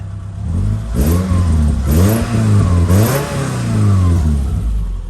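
Naturally aspirated Subaru engine revving close by in a series of rising and falling throttle blips, about four swells with a throaty, rumbling idle between them and no voices.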